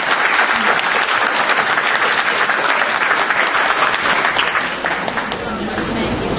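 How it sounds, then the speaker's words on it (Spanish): Audience applause for a speaker at a civil engineering talk on road construction machinery, dense sustained clapping filling the room and fading slightly toward the end, with a voice faintly audible underneath. "a la cual les pido a ustedes un fuerte aplauso."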